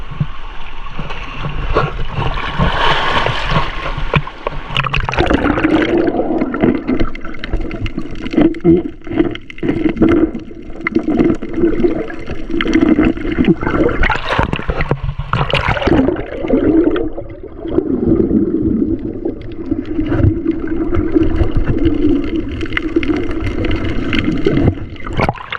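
A strong sea current rushes and churns off Mariveles, Bataan, heard as a loud, constant wash of flowing water close by.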